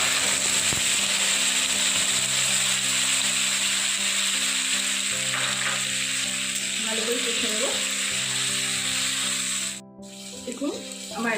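A paste of ginger, tomato and chilli goes into hot oil with tempered whole spices, giving a constant close sizzle with a steady hum beneath it and a few scraping stirs; the hiss briefly drops out near the end.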